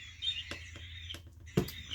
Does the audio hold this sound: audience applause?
no